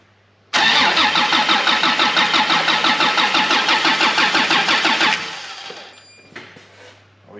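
Toyota 1FZ-FE turbo engine in an 80 Series, making its first start: a loud, rhythmic starter crank runs for about four and a half seconds, then settles into a quieter rough idle that fades.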